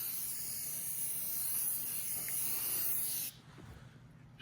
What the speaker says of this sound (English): Now, I'm spraying some instant shine up in there.